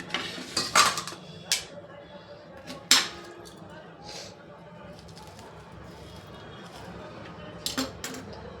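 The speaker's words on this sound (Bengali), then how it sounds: "এইভাবে চামচ দিয়ে ঘুরিয়ে ঘুরিয়ে আমি পুরো অংশটাকে বের করে নেব" A metal spoon scrapes the insides out of raw pointed gourds (potol), giving sharp clinks and short gritty scrapes in bursts, close by, followed by a quieter stretch with faint background sound.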